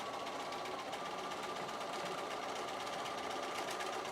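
A sewing machine stitches fabric in a continuous run, a steady fast mechanical whir and rattle close up without pause or voices.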